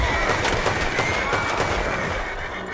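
Rapid gunfire in Red Dead Redemption 2, dense cracking shots firing steadily and loudly throughout, close by with no pauses.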